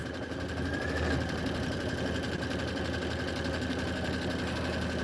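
A sewing machine running a steady stitch while piecing quilt filler blocks and borders, a continuous fast mechanical whir and patter, even and close, with no talking.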